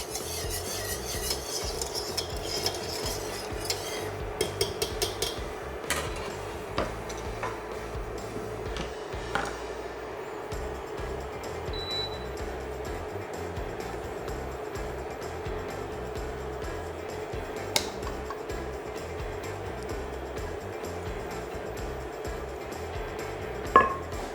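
Whipped cream being stirred gently into blanquette de veau sauce with a spatula in a pan, soft continuous scraping and swishing with occasional light clicks of utensil against the pan, quiet and close.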